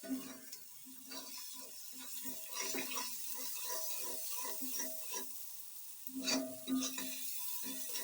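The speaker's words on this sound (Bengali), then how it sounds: "একটু ভেজে নিব।" Onions and other ingredients frying in a pan for homemade pasta, with a steady sizzle and repeated scraping stirs close by, no talking.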